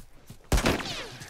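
A single sharp gunshot blast in The Last of Us Remastered cracks out loudly after a quiet moment and rings briefly with a short echoing tail.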